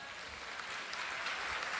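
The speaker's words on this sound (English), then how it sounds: "Parents, students, let's all clap and congratulate" Short burst of soft, steady clapping from parents and students at a high school honor roll ceremony, heard at a distance as an even patter.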